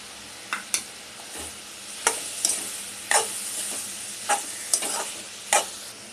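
Tomatoes sautéing in a pan with browned onion and ginger-garlic paste for a Malvani seafood chutney, a steady soft sizzle punctuated by sharp scrapes and clinks of a spoon stirring at irregular intervals, close by.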